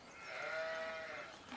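A sheep in Farming Simulator 17 gives a single sustained bleat, fairly close and clear over a soft background, with no talking.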